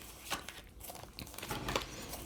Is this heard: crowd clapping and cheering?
no